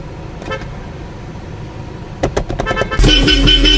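A car horn honks in a few quick toots, then blares loudly and steadily over an idling engine, close by.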